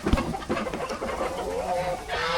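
Chickens and a few roosters cluck inside a farm coop, a busy overlapping chorus of short calls and longer drawn-out notes close by, with no talk.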